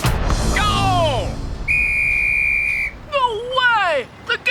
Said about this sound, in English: I just whistled to signal the score.